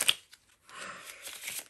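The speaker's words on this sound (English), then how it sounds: "All right, this is my last shuffle." Playing cards riffle-shuffled at close range: a short snap near the start, a pause, then a longer soft whirring flutter of cards for about a second.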